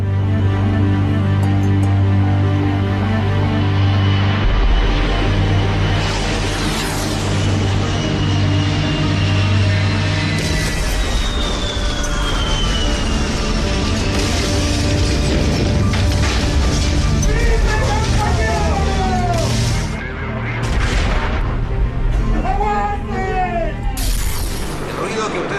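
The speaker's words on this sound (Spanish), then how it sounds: "Correspondiente a vehículos pesados, al parecer correspondería a tanques. Igualmente los disparos que desencadenaron el tiroteo que ustedes escuchan en estos precisos instantes." Rumbling heavy military vehicles, apparently tanks, with bursts of gunfire during the 1973 coup d'état in Chile; a loud, dense roar runs throughout with sharp cracks and booms, under a voice speaking.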